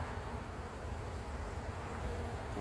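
Honey bees buzzing in an opened hive during a spring inspection after winter, a soft continuous hum of many insects close by, fairly faint and steady with no talking.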